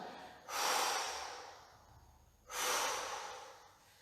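Two slow, deep breaths during a Pilates exercise, each a long airy exhale drawn out over about two seconds, close and soft, with a quiet pause between them and no talking.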